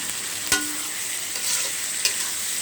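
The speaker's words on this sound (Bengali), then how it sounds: "প্রথমে মশলাগুলোকে ভালোভাবে কষিয়ে নিয়েছি" Spice paste is stirred and fried in oil in a wok, making a steady sizzle broken by a couple of sharp scraping knocks from the spoon; no voices.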